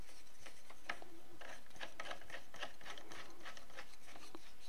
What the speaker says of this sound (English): And the handle screws in here.